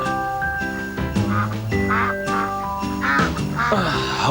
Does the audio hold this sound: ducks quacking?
yes